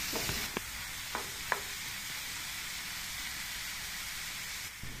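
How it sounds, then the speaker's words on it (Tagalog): Mixed vegetables seasoned with pepper and salt stirred and cooked in a pan, a steady close sizzle and hiss with a few soft utensil scrapes against the pan, no voices. "Haluin at lutuin lamang ang mixed veggies."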